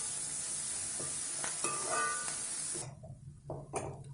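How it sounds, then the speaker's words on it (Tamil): Small-cut carrots sauté in a pan for foxtail millet upma, a steady sizzle with a few stirring scrapes that suddenly quietens, leaving fainter sizzle and clinks. "இப்போ கேரட் ஓரளவுக்கு வதங்கியிருக்கு"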